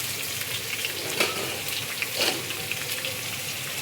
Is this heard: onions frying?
yes